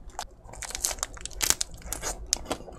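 Crunchy Jjanggu snack being eaten, with repeated close, crisp bites and crackly chewing at an uneven rhythm, plus faint packaging crinkle, without any talking.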